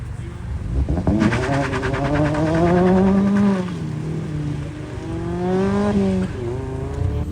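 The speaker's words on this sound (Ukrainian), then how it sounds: "тут почали хлопці вже ганяти" Cars race around a track in quick succession, their engines revving and rising and falling in pitch as they pass fairly close. Bursts of loud acceleration come with wavering engine tones and possible tire squeal.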